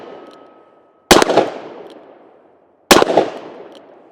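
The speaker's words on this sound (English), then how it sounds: "Let's go ahead and take a few more shots with it." Two loud, sharp shots from a Smith & Wesson 686 Competitor revolver fired single action, spaced about two seconds apart, each with a long ringing echo that fades into quiet.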